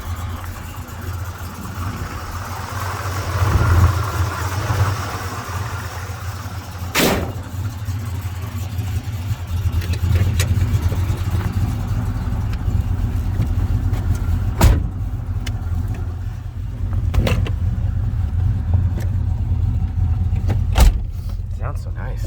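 A 1979 Chevrolet K20 Silverado 4x4 pickup engine runs steadily with a low, continuous rumble at close range, with a few sharp knocks and clicks along the way and people talking faintly over it.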